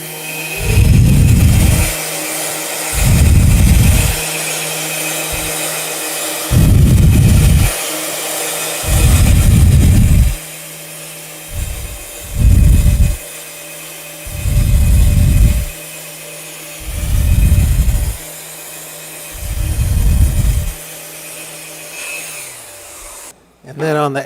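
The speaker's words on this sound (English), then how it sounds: "you can take 220 on the orbital, or you can palm sand it 220 to 320" Ebony edge binding is sanded at 220 to 320 grit in about nine separate rhythmic strokes, each a loud, close rasping burst over a faint steady hum, with no talking.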